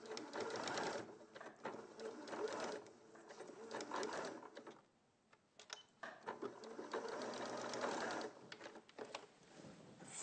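A sewing machine runs at a steady, fast rattling pace while making big stitches, stopping briefly in the middle before running on again, close and continuous.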